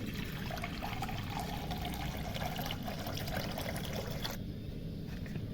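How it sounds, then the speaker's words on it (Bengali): Water poured into a pot set on a gas stove to boil noodles, a continuous close splashing and filling stream that stops abruptly near the end, with no talk. "নুডলস সিদ্ধ করার জন্য আমি এখানে পানি দিয়ে দেবো আমি।"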